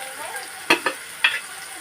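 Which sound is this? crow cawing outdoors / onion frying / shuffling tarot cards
onion frying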